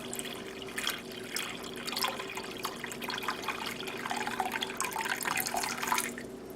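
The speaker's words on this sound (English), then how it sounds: "We're going to pour just enough water in it so it's 1 inch above the eggs." Water pours steadily into a pot of eggs on a stovetop, a continuous splashing, trickling stream with faint kitchen hum behind it, close and moderately quiet with no talk.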